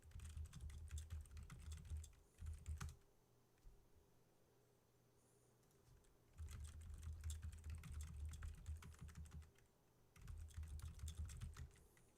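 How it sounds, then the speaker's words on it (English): Quiet keyboard typing in bursts of rapid key clicks separated by pauses, close and soft, with no talk. "I'm just typing."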